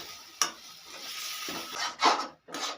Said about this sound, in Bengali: মশলার সঙ্গে আলুটাকে ভালো করে মিশিয়ে নিয়েছি